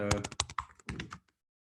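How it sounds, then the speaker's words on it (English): Quick, uneven keystrokes on a computer keyboard clatter up close in a short burst before falling silent, with no voices. "Are you able to see me typing?"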